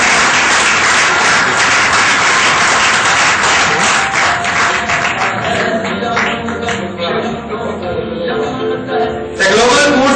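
An audience at the Global Food Safety Awards gives loud, dense applause that fills the hall, with voices and a speaker heard faintly through the clapping before it thins near the end.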